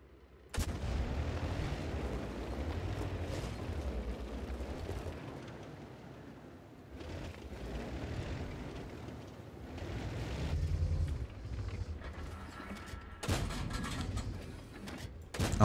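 Tank cannon fire in World of Tanks: heavy booming shots roll out with long rumbling tails, several spaced blasts over a low battlefield drone, with a voice speaking briefly.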